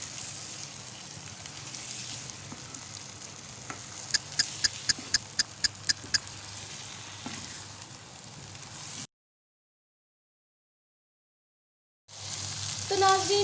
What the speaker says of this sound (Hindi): अब इसे 2 से 3 मिनट लाजमी आपने भूनना है